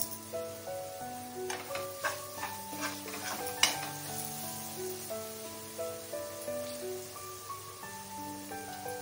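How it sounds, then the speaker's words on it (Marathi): Ground lentil pithla with salt being stirred and sautéed in a pan, soft intermittent scraping and light sizzling at close range, with quiet background tones and no talk. "परतून घ्या थोडंसं।"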